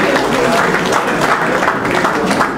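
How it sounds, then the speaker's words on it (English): An audience at a traditional ceremony applauds the Oba, a dense, loud, continuous clapping from a large crowd close by. "Please keep clapping for the Oba, please. Clapping for the King, please."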